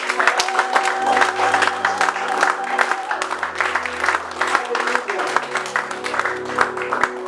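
A church congregation claps in steady, sustained applause, with a sustained organ or keyboard chord playing underneath and some voices mixed in.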